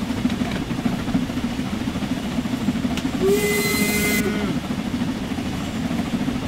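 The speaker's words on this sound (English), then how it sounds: "Still not too convinced on that whistle." A steam locomotive whistle in Train Sim World sounds for about a second over a steady hiss and rumble of a working engine, loud and close, without speech.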